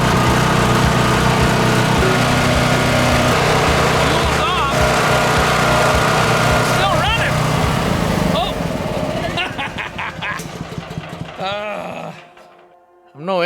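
Small generator engine running on wood gasifier gas drones loudly and steadily, then sputters and falters toward the end, with sharp clanks and a voice partly audible under the engine noise.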